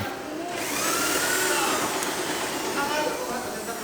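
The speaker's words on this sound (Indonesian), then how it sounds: "Buatlah lubang menggunakan mesin bor pada bagian ukir kerawangan." An electric drill bores holes in a carved wooden openwork wall panel with a Lampung motif, giving a continuous high-pitched motor whine at moderate volume that rises slightly midway.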